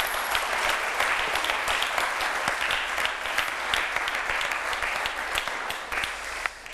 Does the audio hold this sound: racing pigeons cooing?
no